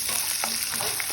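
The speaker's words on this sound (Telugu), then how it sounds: "ముందుగా కట్ చేసి పెట్టుకొని ఆనియన్, ఇవన్నీ ఫ్రై చేసుకోవాలి." Chopped onions frying in a pan for chole curry, a dense, steady close sizzle with a few soft stirring scrapes.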